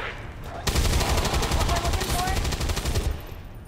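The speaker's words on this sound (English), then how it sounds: "And then open fire." Sustained automatic gunfire from XCOM 2 erupts after a brief quiet start and roars loud and continuous for about two and a half seconds before cutting off, with faint voices underneath.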